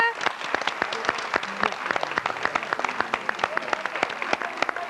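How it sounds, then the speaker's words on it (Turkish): Audience at a Turkish television show claps to send children off the stage, a loud run of distinct hand claps with some voices mixed in underneath. "Alkışlarla gönderiyoruz çocuklarımızı"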